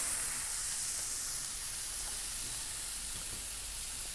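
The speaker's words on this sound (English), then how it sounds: "Oh, that sizzle." Lamb chops sizzling on a grill for an Italian-style dish, a steady close, bright hissing crackle with no talk.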